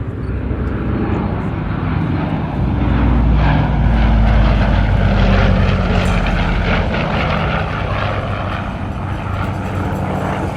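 A 1958 Douglas DC-6B propeller airliner flies past, its piston engines producing a loud, continuous droning roar that swells and holds steady.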